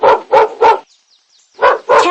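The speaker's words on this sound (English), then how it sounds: "dog" A dog barks three times in quick succession, then after a short pause gives two more loud, close barks, with no other sound around them.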